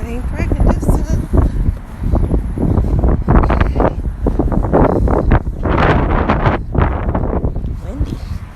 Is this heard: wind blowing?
yes